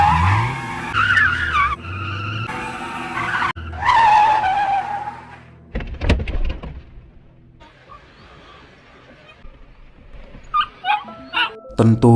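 In a Chinese film, a car skids and nearly hits a puppy: dog yelps and whimpers, a sharp tire screech and impact-like burst, then softer rustling and further small cries.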